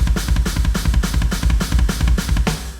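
Drum kit playing a fast triplet double-kick fill, dense continuous kick strokes with no gaps under rapid snare and tom hits, loud, close and alone.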